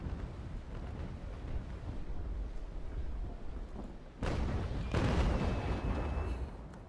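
Ship cannon fire in the naval sailing video game Naval Action, heard as a low rumbling boom that swells abruptly partway through, with a second heavier broadside rolling out after a continuous distant roar.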